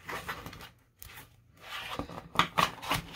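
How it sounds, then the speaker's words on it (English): A stiff tarot card deck being shuffled by hand, soft riffling and scraping of card edges in short irregular bursts, close and fairly quiet with no talking. "This deck is a little stiff still, so it can be difficult to shuffle."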